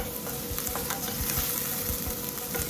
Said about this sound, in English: We're going to let our onion cook.